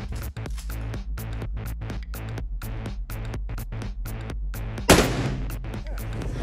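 Shots fired from a Glock pistol at an indoor shooting range ring out as a rapid series of loud, sharp reports, with one especially strong blast near the end that decays into a reverberant tail.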